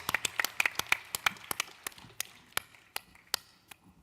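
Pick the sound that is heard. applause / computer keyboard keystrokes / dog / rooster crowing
applause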